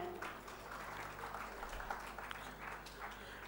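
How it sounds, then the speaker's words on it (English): Audience applause at a business leadership awards conclave in India, a soft, distant, continuous patter of clapping over a low hum of the room, with no clear speech. "let's give him a big round of applause and welcome him"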